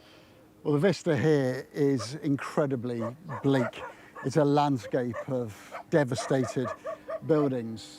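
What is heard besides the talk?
wild dogs barking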